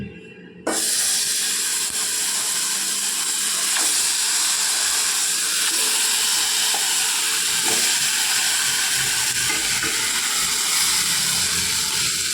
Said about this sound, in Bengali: এবার একটি প্যান বসিয়ে দিয়ে গরম করে নিয়ে প্যানটা, তার মধ্যে দিয়ে দেব মাখিয়ে রাখা ইলিশ মাছগুলো।